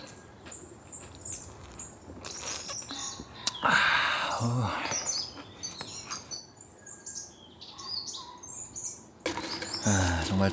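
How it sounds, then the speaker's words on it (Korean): Forest birdsong at a camping spot: repeated high chirps and tweets scattered throughout, moderately near, over a soft rustling background, with a brief louder burst of broadband noise partway through. "여기서 이렇게 새소리 듣고 앉아있으니까 이렇게 평화로울 수 없습니다"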